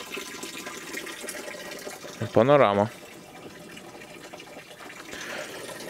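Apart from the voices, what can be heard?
water running from a small spring under a stone shelter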